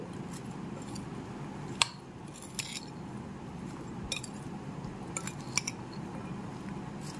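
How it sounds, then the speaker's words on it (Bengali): Chana chaat being mixed with chaat masala in a bowl, giving soft scraping and clinking of a spoon against the bowl with a few sharper taps, faint and close over a steady background hiss. "এবার একটু ভালো করে মিশিয়ে নিচ্ছি"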